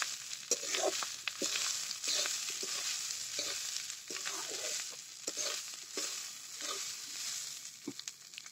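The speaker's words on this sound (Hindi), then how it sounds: "उसके बाद हम बॉयल किया हुआ चावल मिला देंगे। चावल के साथ अच्छी तरह से मिक्स होने तक उसको चलाते रहेंगे।" Boiled rice is stirred into oil in a pan for egg biryani, giving a soft, continuous sizzle broken by scraping and stirring scrapes, fairly quiet throughout with no speech.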